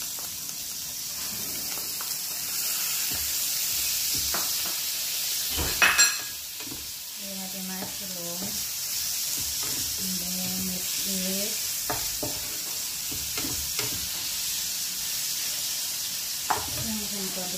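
Mushrooms hit a hot frying pan with crisped meat for carbonara, giving a steady close sizzle and hiss with some stirring clatter while a voice speaks briefly over it.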